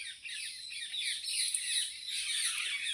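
Birds call near a village pond where peacocks roam, a continuous chorus of high squawks and chirps at moderate distance, fairly faint, with no voices.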